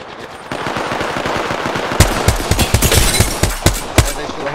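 Rapid automatic gunfire in an online shooter game, a loud close burst of rattling shots followed by several heavier spaced reports.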